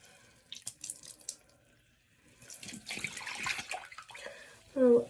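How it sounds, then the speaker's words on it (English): A tap runs into a sink while a jar is rinsed out, water gushing in bursts of varying strength, close by, with faint talk and a brief higher squeak near the end. "I need to wash out this jar first"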